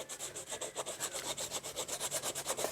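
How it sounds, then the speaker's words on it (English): Cardstock tab being folded and creased for a card base: a quiet, rapid, rhythmic rubbing and scraping, repeated strokes close up with no talking. "I'm going to fold that 1/2 inch tab over, add some glue"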